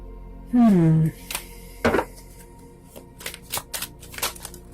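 Tarot outcome cards being shuffled in a few quick riffling bursts, with a voice briefly speaking at the start and occasional hand handling between shuffles.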